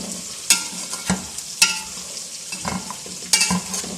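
Peas are stirred into chicken pulao in a pan, with several sharp scraping spoon strokes over a soft sizzle, close up and without talk.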